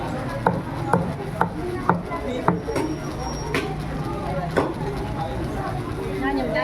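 Whole chicken being chopped for tinola at a market stall in Bangued: about eight sharp, evenly spaced cleaver chops ring out close by over busy background chatter and crowd noise.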